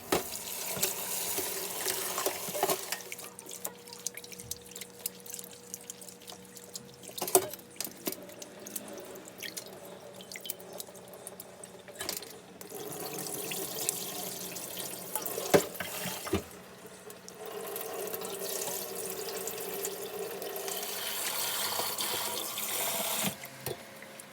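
Running tap water splashing into a sink while seaweed for Korean doenjang soup is rinsed, a continuous close gush broken by occasional clinks and splashes of handling, heard alone.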